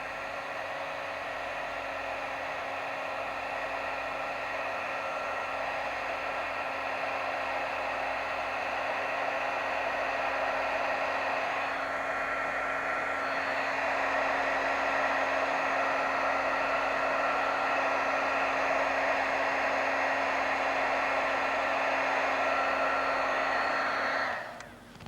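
A heat tool blows a continuous, even, hair-dryer-like whoosh of hot air over stamped artwork coated with white liquid applique, holding steady for over twenty seconds before switching off at the end.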